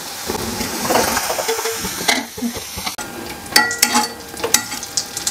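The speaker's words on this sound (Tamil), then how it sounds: "பட்டரில் இந்த பன்னீரை அப்படியே கொஞ்சம் வறுத்துக்கலாம்." Paneer frying in butter in a pan for palak paneer, a steady close sizzle with stirring scrapes and clicks of a utensil throughout, no talk.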